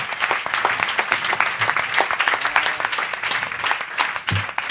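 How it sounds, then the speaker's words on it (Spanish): A conference audience at a forum in Spain applauds the translators, a continuous, dense round of clapping from many hands at a middle distance with a few low voice murmurs mixed in. "molaría también un aplauso para ellas"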